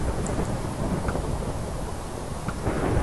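Rain and rumbling thunder play as ambient weather in the Minecraft Sheep Wars game, a steady rainy wash with low rolling thunder throughout, no voices.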